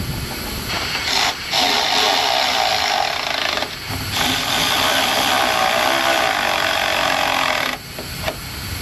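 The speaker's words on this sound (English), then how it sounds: "I got my drill out because these are not drilled for my little screws" A power drill bores screw holes in an auto shop, a steady loud whirring hiss running in long stretches with brief pauses between bursts.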